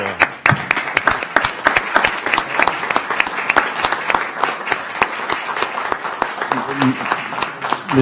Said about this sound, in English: So an applause, please, for these gentlemen.